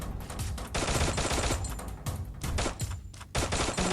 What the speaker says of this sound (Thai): เดี๋ยวเราใช้เอ็มแปดแล้วกันนะครับ เพราะว่ามันยิงไกลใช้ได้นะครับปืนตัวนี้